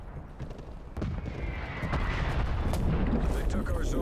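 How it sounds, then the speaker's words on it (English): Incoming artillery strike in a Cold War video game, low rumbling booms and crackling impacts building in intensity, dense and heavy through the second half. "Incoming artillery."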